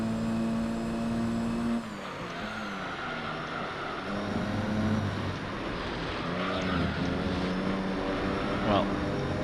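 Racing car engine from Gran Turismo 3, a loud sustained roar with rising and falling revs and gear shifts throughout, someone talking over it.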